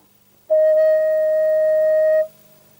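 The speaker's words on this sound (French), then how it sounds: "Alors voilà un son de flûte." A flue pipe of the Saint-Eustache organ sounds one steady flute tone that starts cleanly, holds evenly for nearly two seconds, then stops, clear and alone in a quiet space.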